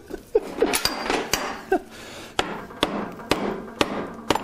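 A motorcycle swingarm axle is knocked through with a hammer: about ten sharp metallic taps at an uneven, steady pace, close and fairly loud over a faint background.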